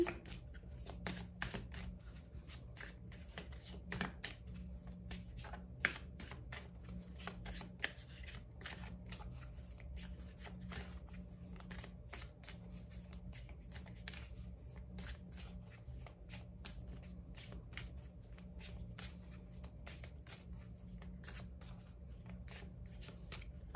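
Tarot cards being shuffled by hand for a card reading, a steady run of soft riffling and flicking that carries on for the whole stretch, close and fairly quiet with no talking.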